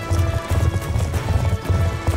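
Horse hooves galloping in the video game Call of Duty Black Ops 2, a steady rapid thudding rhythm running the whole time over game sound, close and fairly loud.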